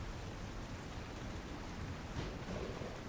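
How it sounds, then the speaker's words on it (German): Steady, full-band rain pours continuously beneath dark storm clouds, a dense close hiss with a faint rumble underneath, holding at an even level throughout with no voices. "Nur noch der Regen und die schwarzen Wolken über euch und das Quietschen vom Mühlrad."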